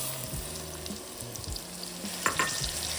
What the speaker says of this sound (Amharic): አሁን ቲማቲም ጨምራለሁኝ።